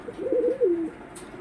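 A single soft pigeon coo, a short rolling low murmur, sounds close by among birds offered at a pigeon sale.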